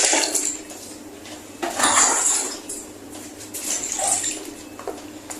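Water poured into a basin to rinse a wig, giving a splashy, hissing gush that swells twice amid small clinks and sloshes, close and moderately loud with no talking.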